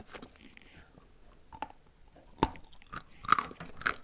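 Bites and chews of dry edible white clay, with a few sharp crunchy snaps and soft mouth sounds, close and quiet, with no talk.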